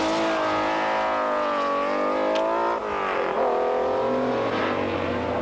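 A Shelby Cobra race car at a 1997 historic road rally passes by with a loud, sustained engine note that holds steady, then dips and shifts pitch as it goes by.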